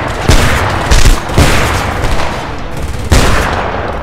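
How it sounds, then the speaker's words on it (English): Shotgun blasts in the Homefront war video game: several loud, booming shots with sharp attacks, roughly a second apart, over constant battle din. "I'm wrecking faces with shotgun. I like the sound as well."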